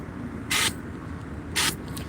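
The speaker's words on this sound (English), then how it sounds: "Like spray paint." Two short hissing bursts from a spray paint can, each about a fifth of a second, separated by a pause over a low background murmur outdoors in a neighborhood.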